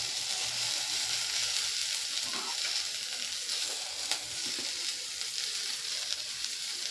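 Soybean chunks frying in a pan with tomatoes being added, a continuous broad hissing sizzle held at an even level, with faint brief clatters partway through and no talking.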